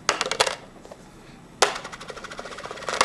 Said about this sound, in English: So put 3 pennies in there, in the cup, count them out.